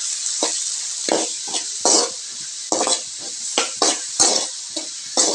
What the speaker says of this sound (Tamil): பொடியாக நறுக்கல 2 பெரிய வெங்காயம் சேர்த்துக்கலாம். கூடவே கருவேப்பிலையும் சேர்த்துக்கிறேன். வெங்காயத்தை நல்லா வதக்கிக்கலாம்